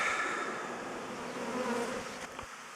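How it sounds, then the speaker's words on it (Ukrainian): A bee swarm moves into a beehive at an apiary with a dense, continuous buzzing hum. It is close and steady, and no one speaks. "Це он заходить рію вулик."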